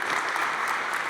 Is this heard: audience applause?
yes